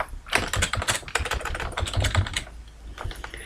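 Steady typing on a computer keyboard, with quick, irregular clusters of close, crisp key clicks running throughout and no voice.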